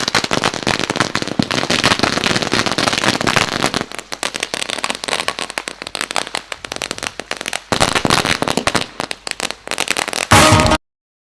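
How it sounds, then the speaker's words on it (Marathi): Firecrackers and fireworks burst continuously at a celebration after a club cricket match, with dense rapid crackling and popping that is loud and close, easing briefly before building to another dense barrage. "नक्कीच फटाक्यांची आतिषबाजी होईल."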